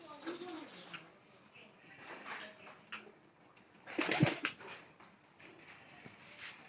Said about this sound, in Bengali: আর এই যে এখানে দেখেন সাদা কবুতর কিন্তু সবচেয়ে বেশি আছে